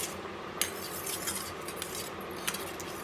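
A child mixes bhel puri with tomato ketchup without heat, and a spoon scrapes and clinks against a bowl in quiet, scattered strokes with a few sharper taps.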